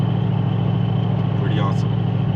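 A supercharged Crown Vic with a 7.3L Godzilla V8 rumbles steadily and loudly, with a brief rising whine during a downshift near the end.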